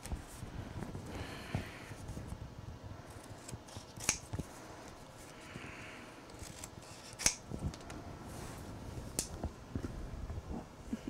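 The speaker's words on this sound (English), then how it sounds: "you can use sewing scissors to cut paper" Quiet, close snips of Singer razor-edge sewing scissors cutting paper, a few sharp clicks spaced apart over soft rustling and faint background hum.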